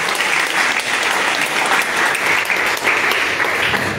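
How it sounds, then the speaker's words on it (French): A crowd at a prophecy worship gathering claps loudly and steadily, a dense, continuous burst of applause that fills the space from start to finish. "Acclame pour Jésus-Christ."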